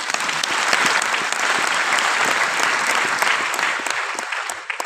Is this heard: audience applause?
yes